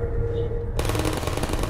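Turret gunfire in the video game Portal, a dense, continuous burst of rapid shots that kicks in suddenly and carries on, loud and close, after a brief stretch of quieter game sound.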